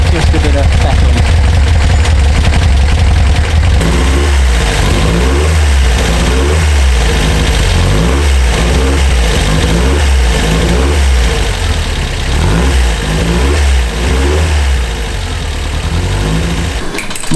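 A Porsche 356 Outlaw engine with a clogged carburettor after a flat battery is revved repeatedly, loud rhythmic blips rising and falling over a rough idle, close by, with a voice talking at times.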